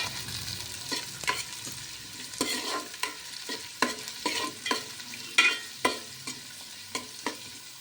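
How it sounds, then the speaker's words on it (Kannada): Chopped onions fry for lemon chicken in a pan, a steady sizzle broken by repeated scraping stirs of a spatula, close and moderately loud with no talking. "ಹೆಚ್ಚಿದ ಈರುಳ್ಳಿ ಹಾಕ್ಕೊಂಡು ಫ್ರೈ ಮಾಡಬೇಕು"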